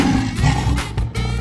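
A lion roars in a 3D animal sliding video game, a rough, noisy growl that swells and breaks, mixed with loud game music and effects.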